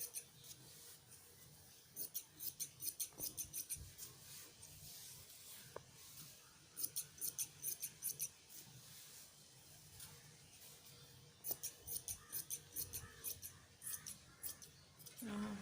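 Scissors cut an old dupatta cloth into 1-inch strips, giving faint, close, quick snips in rhythmic bursts separated by short pauses.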